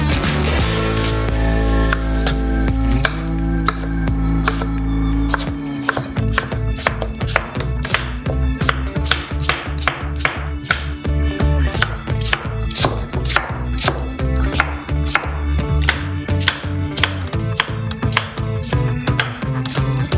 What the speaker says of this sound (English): Cut the fruit into cubes.